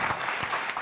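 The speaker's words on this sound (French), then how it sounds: "applaudissez!" Brief burst of studio audience applause on a television show, a continuous rush of clapping with a few louder pulses, short and fairly close.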